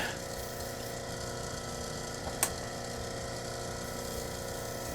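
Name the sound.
water running onto a lapidary grinding wheel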